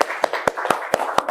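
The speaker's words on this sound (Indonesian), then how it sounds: "tepuk tangan dulu" A small classroom group claps together in a loose, rhythmic run of sharp hand claps, close and fairly loud, with a faint murmur of voices underneath.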